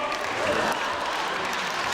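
Brief burst of audience applause at a university student contest, a steady wash of clapping from a hall crowd lasting about two seconds.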